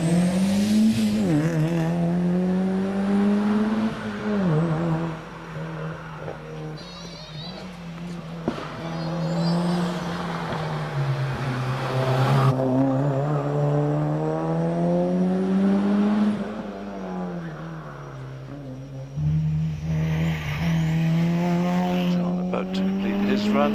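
Mitsubishi Evo 6 rally car on a hillclimb run at Prescott: a loud engine that revs up and down through repeated gear changes, with tyre squeal and a brief lift-off near the end, and faint speech underneath.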